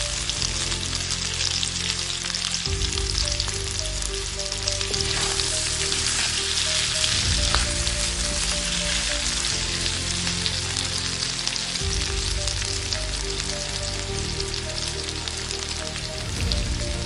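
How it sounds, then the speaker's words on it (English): Coated potato balls stuffed with beef frying in hot oil, a dense, steady crackling sizzle that runs loud and unbroken throughout, with faint background music and no talking. "Dip the coated potato balls in hot oil and fry until both sides are golden brown"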